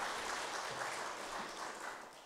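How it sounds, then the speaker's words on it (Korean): Church congregation applauding during a Sunday worship service, a dense, steady wash of many hands clapping together at a distance, fairly soft and unbroken throughout. "하나님께 영광의 박수를 드리겠습니다."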